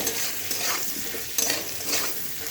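Potatoes and taro frying in a pan sizzle with a steady, loud hiss while being stirred, with brief scraping surges midway and toward the end; no talking.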